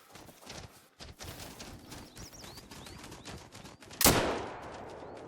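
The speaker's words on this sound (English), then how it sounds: "That is the 16 gauge shotgun drillin'" A 16 gauge shotgun fired at a pheasant in theHunter: Call of the Wild, one loud close blast that rings out after footsteps and faint birdsong.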